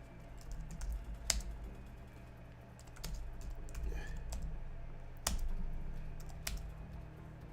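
Quiet typing on a computer keyboard while entering a Linux command, soft irregular key taps with a few sharper clacks over a low steady hum.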